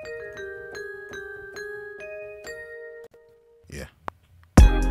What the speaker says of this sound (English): I'm hearing some bells on it, so let's go with that.